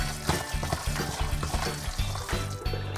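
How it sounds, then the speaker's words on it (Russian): Minced meat being mixed with a fork, a steady run of soft wet squelching and scraping strokes repeating in a quick rhythm, close up with no talking. "А перемешиваю, как всегда, вилочкой."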